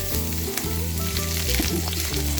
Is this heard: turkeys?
no